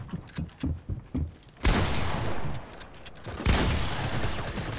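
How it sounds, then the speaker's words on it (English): Gunshots from a first-person shooter game in a 1v1 match: after a run of soft footstep-like thumps, two loud, close shots ring out about two seconds apart, each trailing a long echoing decay, with no talking. "shot twice because I thought I killed you"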